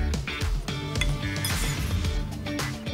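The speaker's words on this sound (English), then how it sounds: "And let's just mix that." Cornstarch being stirred in a bowl for a home-cooked Thai dinner, with a utensil clinking and scraping against the bowl in a quick, busy run of close, bright taps that never settles into a steady rhythm.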